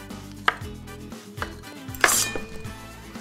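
Fresh ginger is sliced on a cutting board with a knife, a few sharp separate chops spaced unevenly over a few seconds, close and fairly quiet, with a light clink near the end.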